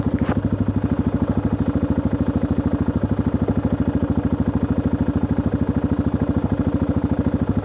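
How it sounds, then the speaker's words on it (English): A four-wheeler ATV engine runs at a steady idle close by, a loud, even rhythmic chugging that holds unchanged throughout with no one speaking. "Motor's still running nice and sweet."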